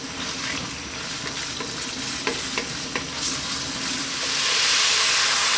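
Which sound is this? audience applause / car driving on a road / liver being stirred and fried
liver being stirred and fried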